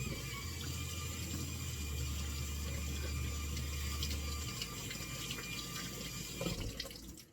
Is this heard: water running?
yes